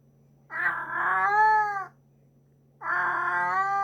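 A rescued cat that is not yet used to its home cries out in two long, loud, drawn-out meows close by, separated by a short pause, over a faint steady hum.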